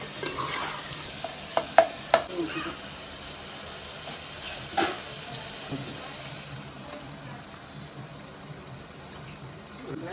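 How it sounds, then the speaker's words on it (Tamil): Steady sizzling of chicken gravy in a hot pan with a few sharp clinks and a brief splash as water is poured in, then a softer, even hiss. "அதனால் நான் தண்ணி ஊற்றிக்கிறேன்."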